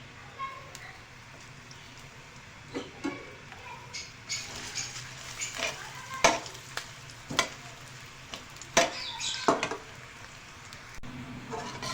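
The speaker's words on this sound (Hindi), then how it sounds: "तो ऑयल अच्छे से गर्म करके इसके अंदर हम सबसे पहले बारीक कटी हुई प्याज ऐड करेंगे।" Finely chopped onion fries in hot oil for a khichdi, giving a steady sizzle broken by scrapes and clinks of stirring in the pan.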